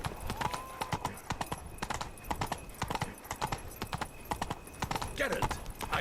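Horse hooves gallop in a rapid, steady clip-clop rhythm in The Witcher 3, close and prominent, with brief bits of game sound and a voice near the end.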